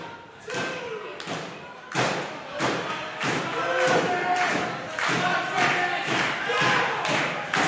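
Heavy thuds of wrestlers slamming onto the ring canvas at an XWA tag-team match, repeated impacts over a roaring crowd and an excited commentator talking throughout.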